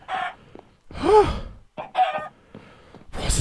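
Minecraft chickens clucking and crowing in several separate bursts, fairly close and moderately loud, with short gaps of quiet between calls and no talking.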